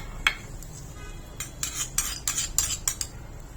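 Dry fruits being stirred in ghee in a small tempering pan, with a spoon scraping and clinking against the metal in irregular bursts and a faint sizzle underneath.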